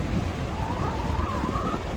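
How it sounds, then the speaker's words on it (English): Irish Sea waves roll in at Blackpool near the Central and North Piers, a steady soft surf wash mixed with wind rumble, heard from the shore at a moderate distance. "Just a quick view again of these rolling waves of the Irish Sea"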